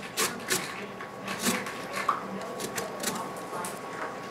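Lemon peel rubbed against a zester in a home kitchen, making a faint, repeated dry rasping with short scraping strokes at an irregular pace.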